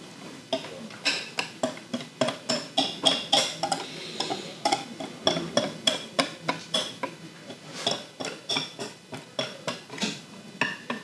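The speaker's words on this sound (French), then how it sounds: "prendre le fouet" A whisk beating pastry batter in a bowl, fast regular metallic clicks and scrapes repeating in a steady rhythm, close and fairly loud, with no talk.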